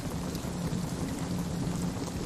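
Heavy rain pouring down in a Napoleon battle scene at Waterloo, a steady dense hiss of falling water with a low rumble beneath, no voices.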